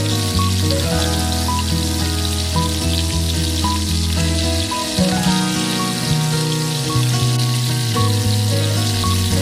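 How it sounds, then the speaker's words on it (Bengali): Onion sizzles in butter in a frying pan, a dense, steady crackling hiss with bursts of popping, close and continuous, with faint kitchen clatter underneath. "বাটারে দিয়ে দিচ্ছি অনিয়ন।"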